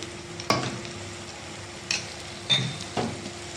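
A spoon stirs chicken masala, chili, coriander and pepper powders in a pan, a few separate scrapes and knocks against a quiet, faint background hum.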